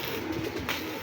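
Pigeons cooing in a loft, a soft low coo rising out of steady, close background noise in a brief moment.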